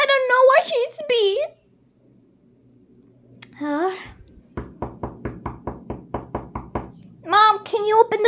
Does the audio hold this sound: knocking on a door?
yes